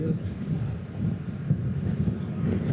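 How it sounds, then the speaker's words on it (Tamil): Heavy, low rumbling wind buffeting the microphone while riding a Yamaha R3 motorcycle, a constant roar of moving at speed, with faint voices buried underneath. "காற்று பயங்கரமாக அடிக்குது, பேசுகிற எதுவுமே கேட்கல."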